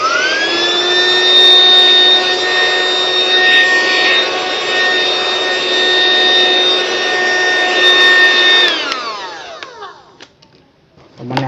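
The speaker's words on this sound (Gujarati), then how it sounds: "ત્યાર પછી કર્યું વેક્યુમ ક્લીનર સ્ટાર્ટ." A small handheld vacuum-type blower from a cheap unboxed hair dryer runs with a steady, loud whine for about nine seconds, then spins down and stops.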